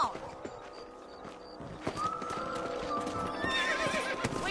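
Horse hooves clip-clop steadily with a whinny in the video game Red Dead Redemption, over faint background noise and mechanical clinks.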